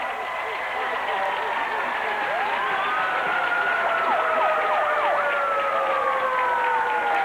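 A fan's hand-cranked siren wails repeatedly after a Berwick Bulldogs touchdown at a 1994 high school football playoff game, rising and falling over the steady roar of a crowd in the stands, with an announcer talking over it.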